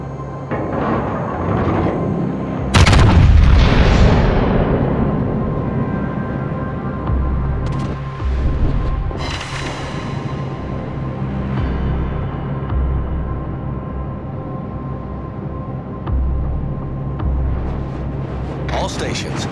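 Battleship Vermont's main guns fire in a naval warfare game, one heavy booming salvo followed by several lighter thuds and a long rumbling tail under continuous engine drone and shipboard ambience.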